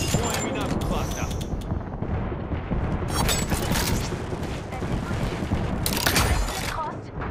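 Gunfire in the video game Apex Legends, sharp crackling bursts of shots near the start, middle and end, layered over busy mechanical game noise.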